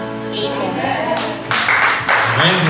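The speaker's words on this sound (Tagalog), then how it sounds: "Sige po, palakpak po para sa Lord." A church congregation breaks into applause after a sung, tonal passage fades; the clapping swells suddenly midway and carries on loud and broad through the rest of the moment.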